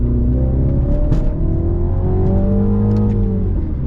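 A 2016 MINI JCW with a six-speed manual pulls hard through second gear, its engine note climbing steadily in pitch with a loud, close whirring drone and a brief dip mid-pull before rising again.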